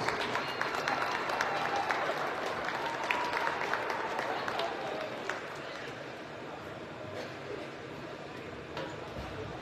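Crowd applause at a college men's basketball game, clapping and cheering filling the gym steadily before easing slightly toward the end, with some murmur and noise underneath.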